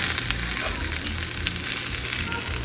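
Tortillas dipped in oil and cooking on a hot surface give off a dense, continuous sizzle and crackle, close and fairly loud, with no talking.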